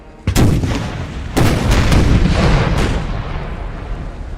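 Cannons booming in Empire Total War's Empire 2 mod during a colonial-era battle: a sharp opening blast followed by a staggered volley of three loud reports, each trailing into a rumbling roar.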